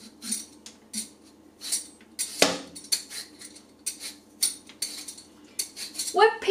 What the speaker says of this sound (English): we're peeling these potatoes